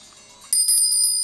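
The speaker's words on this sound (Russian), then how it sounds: "Слабый звон бубенчиков" Faint, bright jingling of small sleigh bells in a radio-play staging of a snowstorm scene, a soft shimmering ring that starts abruptly and sustains for about a second without voices.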